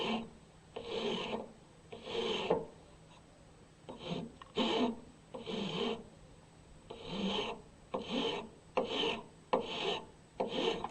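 A hand file rasps across a wooden keyring piece in repeated forward strokes, each stroke a short scraping burst separated by brief pauses as the file is lifted off, close and steady with no talking.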